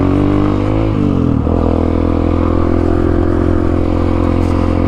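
A big motorcycle engine runs loud and close, its pitch swelling briefly in a quick rev near the start before settling back to a steady, rumbling idle.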